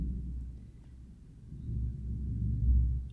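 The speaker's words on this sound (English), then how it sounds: "Oh, the thunder is rolling outside." Thunder rolls outside as a low, distant rumble, swelling gradually and sustained without sharp cracks.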